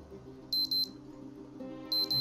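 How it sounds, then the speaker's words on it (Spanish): An alarm clock in the Project Zomboid video game beeps in two quick triple bursts about a second and a half apart, over a steady low game hum. "Venga, detén alarma."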